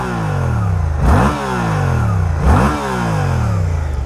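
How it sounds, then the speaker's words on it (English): A Suzuki GSX-8R motorcycle's warmed-up parallel-twin engine with a 270-degree crank idles with a throbbing beat and is blipped twice, each rev rising sharply and falling back to idle, close and loud with no talk. "Let's go ahead and start it up, shall we? Little 270-degree crank comes to life."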